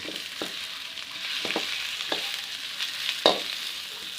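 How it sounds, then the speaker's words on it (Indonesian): Bay leaves, bruised lemongrass and bruised galangal stir-fry in a pan with a steady, soft sizzle, with a few scraping stirs of a utensil heard over it. "tumis sampai harum"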